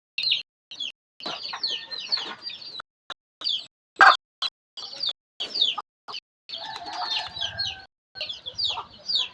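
A mother hen with a brood of fairly large chicks in Bohol, Philippines: close, busy high peeping and chirping from the chicks comes in irregular bursts, mixed with the hen's clucks and short gaps of quiet.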